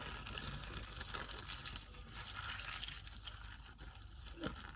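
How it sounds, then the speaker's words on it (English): Boiling hot water poured onto palak (spinach) leaves in a container, a soft continuous gushing pour heard faintly and alone. "Now what we'll do is pour in about half a cup of boiling hot water."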